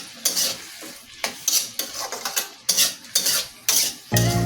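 Eggs with a pinch of turmeric powder being stirred in a pan, with about eight close, distinct scraping strokes of a utensil against the pan in an uneven rhythm and no talking.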